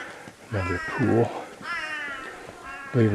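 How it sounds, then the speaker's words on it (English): An Australian crow gives several whiny, wavering calls close by in a Karijini National Park gorge, each a drawn-out nasal cry with short gaps between them. "I believe that's the sound of their crow, which has this whiny sound to it."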